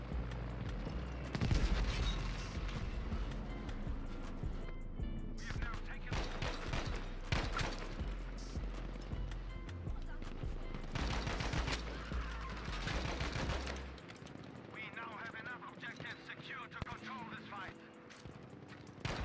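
Rapid gunfire and machine-gun bursts in Battlefield V during tank combat, dense and loud, with booming impacts and continuous firing throughout, thinning out near the end.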